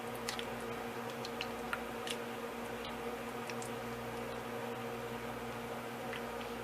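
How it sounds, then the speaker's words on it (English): A spoon stirs yogurt, apple and granola in a cup, giving faint, soft ticking and squishing scrapes spread irregularly over a quiet background hum. "Give that a little stir"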